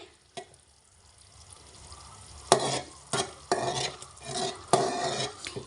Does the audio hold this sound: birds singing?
no